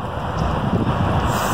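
Wind blowing outdoors, a steady loud rush buffeting the microphone with no voices.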